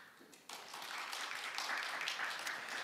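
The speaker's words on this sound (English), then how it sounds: "please give her a round of applause." Audience applause at the World Ocean Forum marine policy session, a soft, steady patter of many hands clapping in a conference hall that begins abruptly and continues evenly, faint and somewhat distant.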